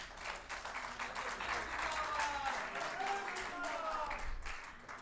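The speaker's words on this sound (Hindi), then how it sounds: "एक बार ढेर सारी तालियां" An audience gives sustained applause for a guest on stage, a dense, even patter of many hands that lasts throughout, with a voice overlapping it.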